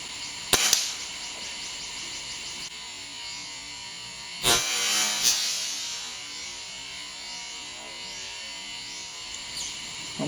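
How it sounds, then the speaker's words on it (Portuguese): An air rifle fires a sharp single crack while hunting in shade. A second, stronger shot comes a few seconds later over quiet outdoor ambience with faint insects. "simulando um disparo um pouco mais difícil"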